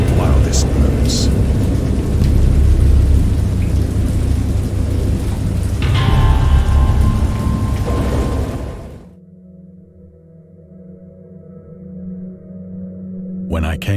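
Loud, dense rumble of a thunderstorm with heavy rain fills most of the stretch, a thunderous swell rolling through before it cuts to a quieter low drone near the end.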